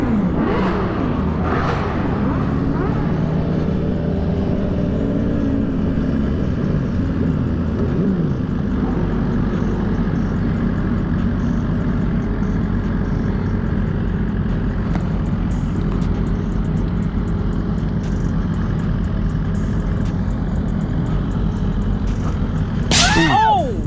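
Suzuki GSX-R 1000 sport bikes out on a group ride: steady loud engine drone with rising and falling pitch sweeps as bikes rev and pass close by, wind buffeting throughout, and a sharp rev near the end.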